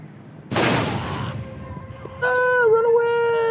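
Rifle fire in the video game Destroy All Humans, heard as a loud broadband burst about a second long, then tonal, whining game effects rising over the background.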